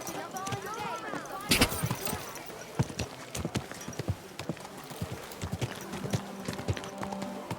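Horse hooves clip-clop on a road in the medieval game Kingdom Come Deliverance 2, a busy irregular clatter of close and distant steps with a horse whinnying early on and characters talking over it.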